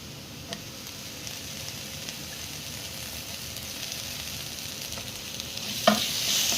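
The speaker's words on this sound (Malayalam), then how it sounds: "തക്കാളിയും കൂടി ഇട്ട് കൊടുക്കാം." Tomatoes tip into a hot frying pan and are stirred, giving a soft continuous sizzle with a few scraping clicks of the spoon, louder near the end, with no talking.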